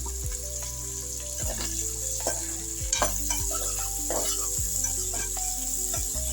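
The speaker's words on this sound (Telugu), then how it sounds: "ఇది ఒక 2 నిమిషాలు ఫ్రై చేస్తాం." Green chilies and potato fry in a pan with a steady sizzle, while a utensil stirs and scrapes them several times, close by.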